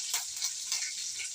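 Garlic with mustard seeds and curry leaves frying in hot oil for a tempering, a steady close sizzle with bright crackling bursts and no talk.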